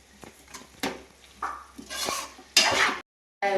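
Chicken with ground masala is stirred in a pan, with a utensil scraping and clanking against the metal in irregular strokes and some soft frying, close and fairly loud, without talk.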